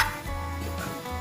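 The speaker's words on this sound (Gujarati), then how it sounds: "વઘાર્યું છે, તેલમાં સસડે છે." Tempering for a potato curry sizzling in hot oil, a close, steady crackling hiss with faint stirring clicks over a low background hum, brief and without talking.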